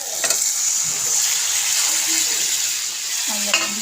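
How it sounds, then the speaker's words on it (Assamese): Fried potatoes and mushrooms sizzling together in a pan, a loud continuous close hiss with a few brief utensil clinks and scrapes from stirring. "ধুনীয়াকৈ এতিয়া মই ভাজি ল'ম আৰু অকণমান ভাজি ল'ম"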